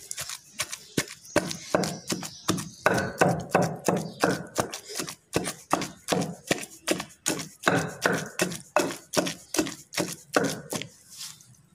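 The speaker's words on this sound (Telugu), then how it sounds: "చింతపండు కూడా వేసుకొని కొద్దిసేపు దంచుతాము," Raw mango chutney with tamarind is pounded in a stone mortar, giving a steady run of loud, evenly spaced thuds, about two per second, close up and alone for around twelve seconds.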